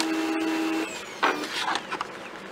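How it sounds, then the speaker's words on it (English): A printer prints a square onto scrapbook paper with a steady whine and a mechanical hum. A clunk follows, then uneven whirring and shuffling as the paper feeds through. It sounds close and moderately loud. "And it's going to print that"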